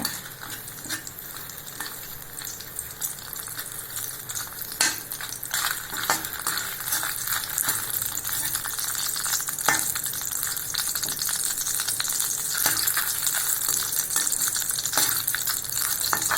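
Chillies, tomato and other ingredients for tomato chutney fry in a pan with a continuous bright sizzle, while a spoon stirs and clinks against the metal at irregular intervals throughout; no talking.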